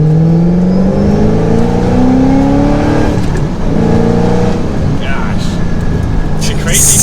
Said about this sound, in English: It is effortless to just keep picking up the speed.